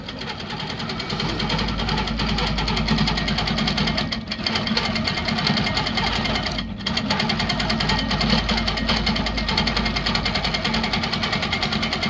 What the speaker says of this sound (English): I have a very noisy long arm machine.